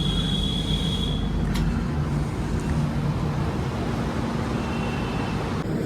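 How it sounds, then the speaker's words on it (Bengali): A passenger train pulls out of platform 3 at Kolkata station on a trip to New Jalpaiguri, heard from inside the coach as a steady low rumble with a faint thin tone and an occasional click, and no voices. "নির্দিষ্ট সময় থেকে 3 মিনিট মতো লেটে আমাদের ট্রেন ছাড়ছে কলকাতা স্টেশনের 3 নম্বর প্ল্যাটফর্ম থেকে।"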